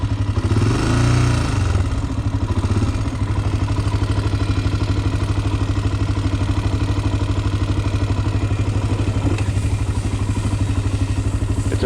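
A quad ATV engine runs close and loud with a steady throbbing idle, briefly revving near the start before settling into a constant rumble.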